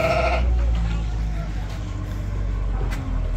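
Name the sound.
sheep bleating in a barn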